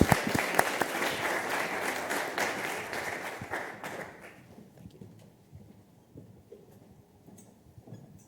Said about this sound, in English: A round of applause for Dr.